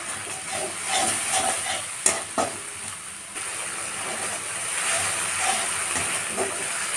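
A ground paste of cumin, garlic, ginger, green and dried chilli with salt and turmeric fries in a pan for a thin singhi fish curry, giving a steady close hiss and sizzle with a few sharp clatters of stirring.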